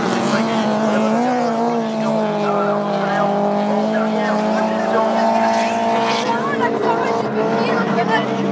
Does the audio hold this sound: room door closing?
no